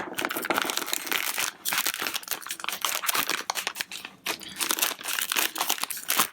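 A plastic zip bag holding an NES 72-pin connector repair kit is pulled open and handled, making close, busy crinkling and rustling with brief pauses.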